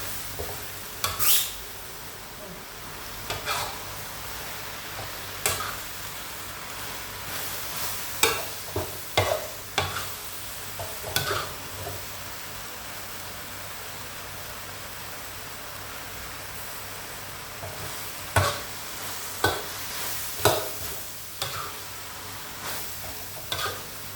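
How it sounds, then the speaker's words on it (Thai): Phak khan chong vegetables stir-fried with pork in a pan, a steady sizzle with repeated scraping stirs and clinks of the utensil against the pan at irregular intervals throughout. "ผัดผักคันจองให้สุกค่ะ"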